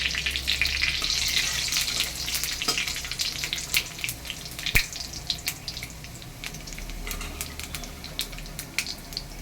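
Papaya and potato fry in a pan with bay leaf, cumin and a little sugar, making a busy crackling sizzle that eases slightly midway, with scattered spatter pops and light clinks. No one speaks.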